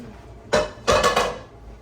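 An emptied pasta pan is moved and set aside in a home kitchen, giving one clank followed by a quick double clatter of metal, close and fairly loud with no talking.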